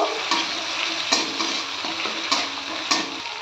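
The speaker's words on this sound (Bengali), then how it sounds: "এবার এর মধ্যে আমি বেটে রাখা মশলাটা দিয়ে দেব। একটু নেড়ে নেব।" Ground spice paste and tomato fry in a pan, giving a continuous close sizzle broken by regular scraping stirs of a spoon against the pan, with no talking.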